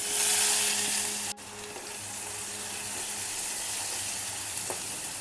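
Finely chopped onion drops into hot oil tempered with asafoetida for a Konkani field bean curry, giving a sharp burst of loud sizzling that settles into a steady frying hiss, with a brief stirring clink partway through.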